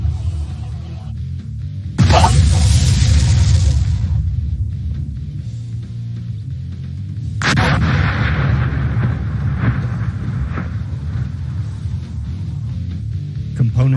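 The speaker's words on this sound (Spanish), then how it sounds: "fíjense la explosión que se realiza con el cordón detonante" Detonating cord blast in wireline oilfield operations: two loud, sharp broadband bursts a few seconds apart, each followed by a rumbling decay.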